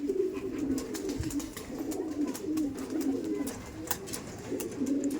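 Dom pigeons in a loft keep up a continuous throaty cooing, wave after wave of low calls heard up close, with occasional clicks and scuffs.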